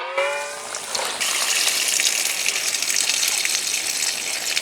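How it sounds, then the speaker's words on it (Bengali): Rice is rinsed in water, one of two washes with the water changed between, as part of making kheer payesh in a clay pot. A close, steady gushing and sloshing of water runs throughout. "জল পাল্টে দুবার ধুয়ে নিলাম।"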